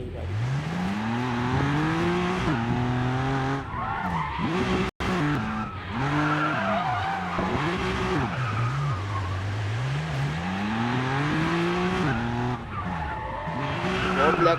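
A tuned BMW M4 skids repeatedly in the Racing Master mobile racing game, its engine note rising and falling with loud, sustained tire squeals and drifting across the whole stretch, with one brief dropout partway through.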